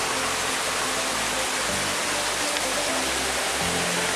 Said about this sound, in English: what a nice little stream